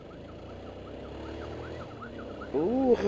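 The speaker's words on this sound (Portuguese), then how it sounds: "Tem uma ambulância aqui, velho." An ambulance siren wails on a road, a repeating rising-falling tone heard from inside a car in morning traffic, with a louder close vocal burst near the end over the engine hum.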